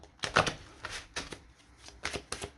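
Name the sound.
shuffling oracle cards until a card jumps out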